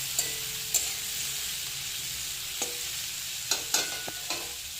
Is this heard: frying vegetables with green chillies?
yes